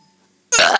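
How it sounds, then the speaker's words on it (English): A single short, loud burp from a kid bursts out abruptly after near silence and lasts about a quarter second. "I'm going to be doing some burps once again."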